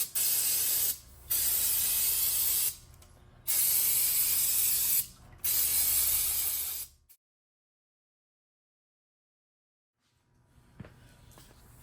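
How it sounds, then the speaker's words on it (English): Aerosol spray hisses in four long bursts separated by short pauses, loud and close, cleaning a part from a barn-find Suzuki Hayabusa motorcycle engine, then silence followed by faint clinking of handling. "I'm gonna go ahead and spray as much of this stuff off as possible"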